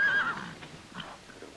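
A horse whinnies loudly at the start, then quieter snorts and faint hoof sounds follow nearby.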